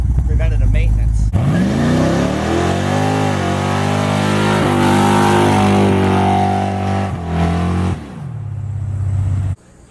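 Dodge drag truck with a 5.9 Magnum engine and loud exhaust, revving up and holding a steady roar close by, then dropping back to idle near the end.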